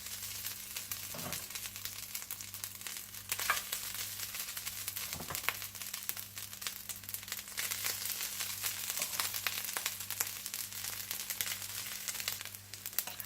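Garlic rice tipped onto a hot sizzler plate brushed with oil or butter for chicken sizzler, giving a steady crackling sizzle throughout with occasional louder crinkly bursts, no talking.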